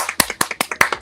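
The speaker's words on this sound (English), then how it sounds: "Let's get a clap for me." A single person claps about a dozen times in a quick, even rhythm, each sharp slap close and distinct.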